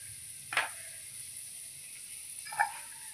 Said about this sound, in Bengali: চিংড়ি মাছটাকে কড়া করে একটু ভেজে নেব